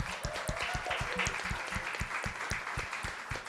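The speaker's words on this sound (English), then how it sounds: "So could everybody give Assata a big round of applause?" Attendees at a justice and reentry panel event applaud for Assata Thomas, director of a Philadelphia city division, with steady crowd clapping and rhythmic low thumps running beneath it throughout.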